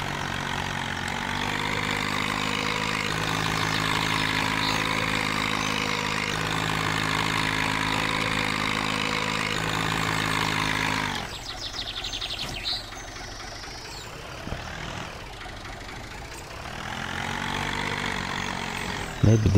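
A tractor engine idles steadily in Farming Simulator 19, a constant droning hum that thins out midway and then returns, heard alone at moderate level.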